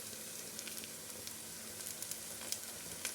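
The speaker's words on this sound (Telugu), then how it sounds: "కరివేపాకు వేసుకుందామండి." Curry leaves crackle and sizzle in hot oil in a curry pan alongside onions, a soft continuous hiss with scattered small pops, quiet and close, and no voices.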